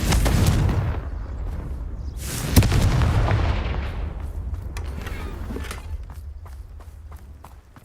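Confringo blasting spell exploding in a wizarding video game: a loud burst near the start, a second sharp blast mid-way, then a long crackling decay with scattered debris patter and no talk.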